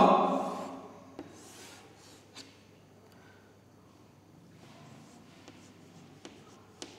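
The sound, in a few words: writing on a board while teaching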